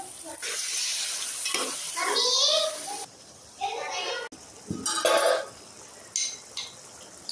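Ginger garlic paste is fried and stirred into tomatoes in a pan for mutton curry, with sizzling and scraping stirs in short bursts, up close, while someone talks in the background.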